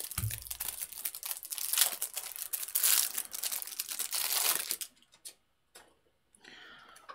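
Plastic wrapping crinkling and tearing as a pack of game cards is opened, a steady close crackle of rustling that stops abruptly near the end, leaving only brief faint handling noises.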